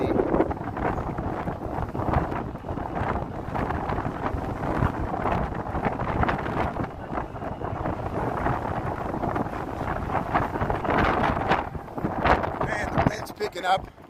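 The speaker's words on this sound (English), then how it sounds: "I know it's windy." Strong gusty wind buffets the microphone on a city street in Chicago's West Loop, roaring loudly and continuously while people talk over it.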